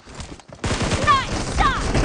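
Rapid gunfire in the mobile shooter PUBG Mobile, a dense burst of loud close shots with whizzing ricochet-like sweeps, about two seconds long, following a brief quiet start.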